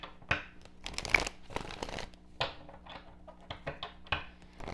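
A deck of tarot cards is shuffled repeatedly, with quick riffling bursts and soft papery slaps at close range and no talking.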